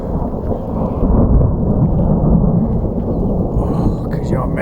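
Thunder rumbles heavily overhead during a rainstorm on a desert walk, a deep sustained roll that swells and fades over a few seconds with rain hissing beneath it.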